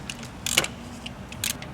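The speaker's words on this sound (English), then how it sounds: "we're going to remove this tensioning roller, and it's going to require a 14mm socket" Ratchet wrench with a 14mm socket working the timing belt tensioner bolt on a Kia Spectra 1.8L DOHC engine, giving a few brief clicking bursts close by, with quiet gaps between them and no talk.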